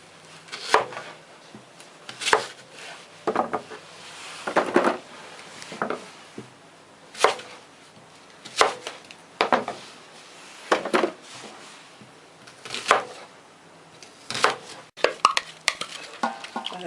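Knife chopping onion on a wooden board for Korean mandu dumplings, sharp close thuds in irregular bursts with quiet gaps between them.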